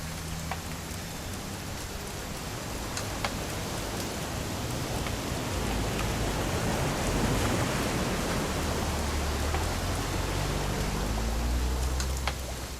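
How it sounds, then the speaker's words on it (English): Continuous rainfall in the video game What Remains of Edith Finch, a broad hiss of drops on the ground with a low rumble underneath, steady throughout and free of speech. "It's gonna rain the whole weekend, isn't it?"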